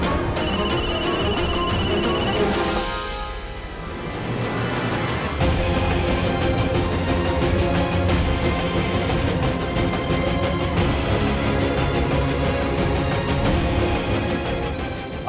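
A telephone rings in a domestic drama scene, a repeated electronic ring tone sounding clearly for a couple of seconds, followed by a swell of dramatic background music.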